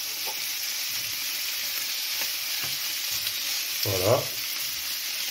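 Perugine sausages browning in a pan, with a steady broadband sizzle throughout, a few soft utensil taps and a brief louder clatter near the end, a short spoken word briefly over it.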